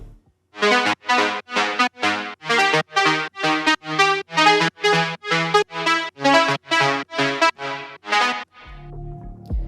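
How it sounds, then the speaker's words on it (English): A Serum synth arpeggio plays bright plucked notes in a steady, evenly spaced sequence of about eighteen hits, each decaying quickly, loud and alone, ending with a short soft tail. "The next sound here is the arpeggio"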